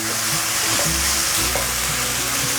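Cabbage and shiitake mushrooms stir-fry in a pan with a loud, dense sizzle and a continuous hiss, tossed quickly throughout, with no voices.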